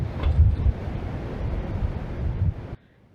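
Wind blowing across an open landscape in the video game Skyrim, a steady low rushing gust that holds for nearly three seconds and then cuts off abruptly into silence.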